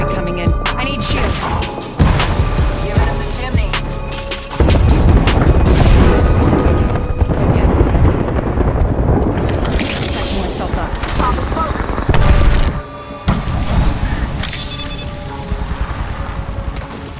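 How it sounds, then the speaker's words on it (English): Airstrike blasts in an Apex Legends Wraith match, booming impacts with rapid gunfire and rotor-like rumble layered over them, loud and dense, with brief drops in between and a voice talking at points. "We've got an airstrike coming in."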